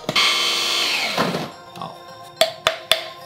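An electric burr coffee grinder grinds coffee beans to a fine pour-over setting with a loud, continuous high whirring buzz for about a second and a half, then winds down, followed by three sharp knocks.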